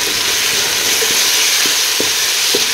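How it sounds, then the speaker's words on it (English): Njanga rice sauce with crayfish, bay leaf, white and black pepper and thyme being stirred in a pot, a steady frying sizzle with a few soft spoon scrapes and knocks, close and continuous with no talking. "So now just stir it nicely."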